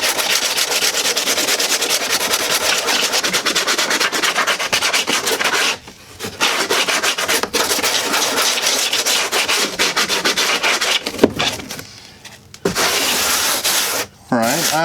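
Continuous scratchy rubbing of a sanding sponge on styrofoam model railroad scenery, back-and-forth strokes with a few brief pauses, close and loud.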